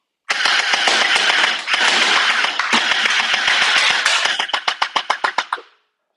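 An Uzi-Mac10 style gel ball blaster fires in long rapid bursts, loud and close, ending in a string of distinct separate shots before stopping.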